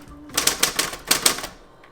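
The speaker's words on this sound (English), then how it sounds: "I got this typewriter for 20 bucks at a thrift shop" Quick typing on a manual typewriter bought at a thrift shop: a close, crisp burst of about eight rhythmic key strikes that then fades out.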